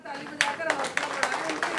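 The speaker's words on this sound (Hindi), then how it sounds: "ज़ोरदार तालियों से इस्तकबाल कीजिए हज़रत वासिफ़ फ़ारूक़ी साहिब।" Sparse audience clapping at a mushaira poetry gathering welcoming poet Wasif Farooqi, a handful of distinct claps in an uneven rhythm with voices talking underneath.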